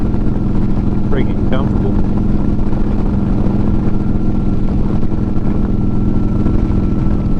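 A 2009 Harley-Davidson Road Glide cruising, its steady low engine rumble and wind noise running loud and constant throughout while someone talks over it.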